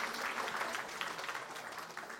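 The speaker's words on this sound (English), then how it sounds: "Thank you for the wonderful hand claps and the encouragement for the youngsters." Audience applause at a Swaranjali students' day performance, steady dense hand clapping from a sizable crowd, moderately distant and unbroken throughout.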